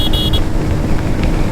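Bajaj CT 100 ES motorcycle cruising in fourth gear, a steady low engine drone with rumbling wind noise, heard close and continuous for a brief stretch.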